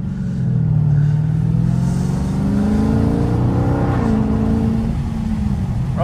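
A Dodge Charger 392 Daytona drives on a rainy night, its engine droning loud and steady throughout and rising and falling in pitch as it revs and settles, with no voices.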